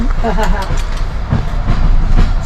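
A passenger train runs on rails on a long international journey, a loud steady rumble with the rhythmic clatter of wheels over rail joints filling the carriage, heard close from inside.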